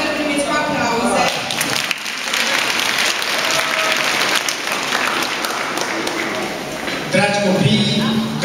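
Applause from a crowd welcoming the mayor at a children's lantern parade, a steady dense clapping that carries through the whole stretch, with voices and shouts mixed in near the end.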